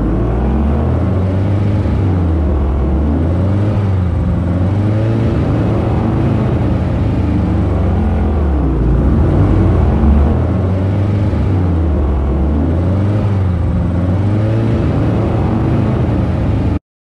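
A classic Porsche Spyder engine on a drag race run gives a loud, steady droning roar with rising and falling pitch sweeps as it revs through the gears, continuous and close with no voices.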